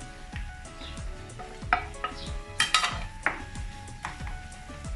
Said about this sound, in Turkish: Şimdi üzerine yaklaşık 500 gram kadar kıyma ilave edeceğim